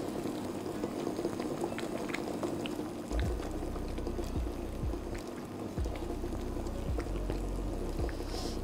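Cauliflower cream simmering in a pot, a steady close bubbling and gurgling with occasional low pops rising through the thick liquid, continuous and alone without any talking.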